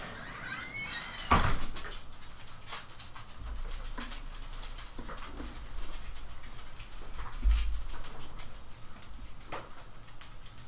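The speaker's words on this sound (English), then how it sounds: "Oh, and the dogs are driving me nuts." Dogs whimper and shuffle indoors with a thud and the rattle of a sliding door, brief sounds scattered over a quiet room, with no talk.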